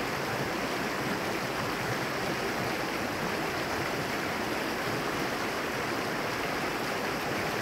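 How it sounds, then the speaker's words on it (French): River water rushes over rocks in a continuous, dense hiss, loud and close, with no breaks or voices. "cette eau qui traverse les rochers"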